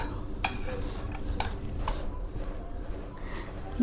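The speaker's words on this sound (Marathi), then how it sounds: "बटाटे शिजले छान मिक्स करून घेऊ" Boiled, peeled potatoes are mashed in a metal pot, giving repeated clinks and knocks of a utensil against the pot over a soft, continuous scraping background.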